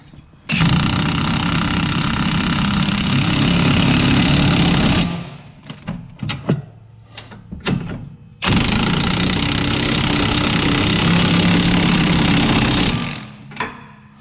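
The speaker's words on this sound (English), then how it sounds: "with our 21mm impact. And go ahead and just impact those down." A 21mm impact wrench drives strut bolts down on a 2009 Chevy Impala during rear strut replacement, giving two long, loud rattling bursts separated by a pause filled with clanks and knocks.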